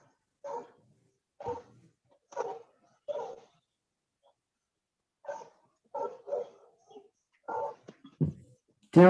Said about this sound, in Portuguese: Tem alguém com o microfone aberto, ouvindo barulho de cachorro.